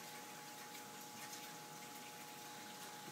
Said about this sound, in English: That's hydrogen gas,